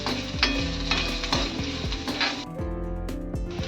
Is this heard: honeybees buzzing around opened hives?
no